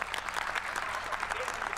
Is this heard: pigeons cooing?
no